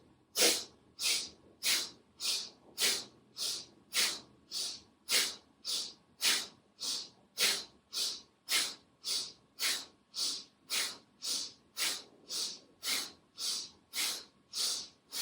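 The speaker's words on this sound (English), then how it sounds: "You sniff the air in and you sniff the air out for a few breaths." Quick, rhythmic sniffs through the nose, around two per second and evenly paced, close and clear with no talking.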